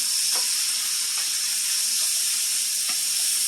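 Sausage sizzles steadily in a pan on the stove, a loud, constant frying hiss broken by a few faint scrapes and knocks as it is stirred.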